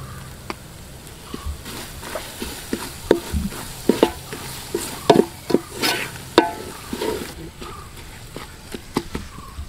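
Clam meat sizzling in a pan while a spoon stirs and scrapes it, producing irregular close clinks and taps over a steady low frying hiss.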